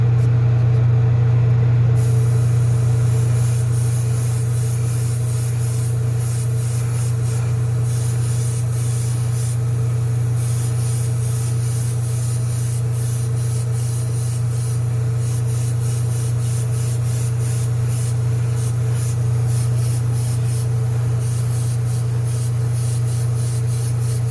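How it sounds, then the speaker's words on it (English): An airbrush hisses steadily while spraying a yellow-to-green fade onto a #46 City Chevrolet car body, with a constant low compressor hum running beneath a long, even spray. "if you haven't sprayed with an airbrush, usually want to go spray past the body and then release the trigger"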